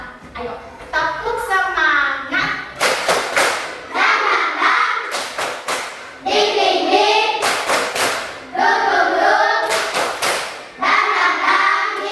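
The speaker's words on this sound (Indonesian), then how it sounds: "Ayo sekarang kita berdiri. Tepuk semangat." A standing class of children doing a rhythmic spirit clap (tepuk semangat): bursts of sharp, patterned claps alternating with children's chanting voices, repeated several times at close range.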